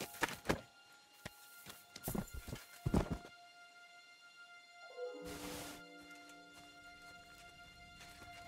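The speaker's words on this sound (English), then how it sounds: "The horses are here." Horses in the medieval game Kingdom Come Deliverance II: a few sharp hoof clops and thuds, then a drawn-out whinny that tails off into a quieter tonal hum. No talking.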